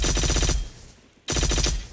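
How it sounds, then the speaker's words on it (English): Rapid automatic rifle fire in the survival game Miscreated, two loud close bursts of fast repeating shots separated by a brief pause, with no talking. "I was just shooting from the hip there. I'm gonna zoom in this time."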